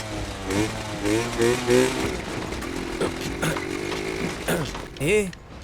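A motorcycle engine with a reported engine problem runs and revs during a test ride, a steady mechanical drone mixed under voices and background music.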